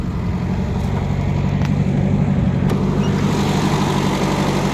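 A 1978 Toyota KE35 Corolla Coupe Hardtop with a 4K engine and five-speed gearbox runs at a steady, rumbling idle, close by and fairly loud, with no pauses for the whole stretch.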